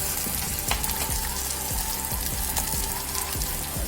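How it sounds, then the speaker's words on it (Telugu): Onion and chopped tomato fry in a pan for a Telugu kanda pulusu curry, giving a dense, steady sizzle up close with faint crackles and stirring scrapes, with no voice. "ఇట్లా ఆనియన్ ఫ్రై అవుతున్నప్పుడే కట్ చేసి పెట్టుకున్న ఒక టమాటో వేసి కొంచెం ఇట్లా కలుపుకొని మూత పెట్టుకోవాలి."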